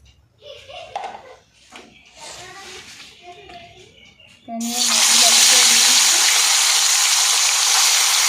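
Quiet kitchen sounds, then a sudden loud, steady sizzle as fish hits hot oil in a wok, hissing continuously to the end.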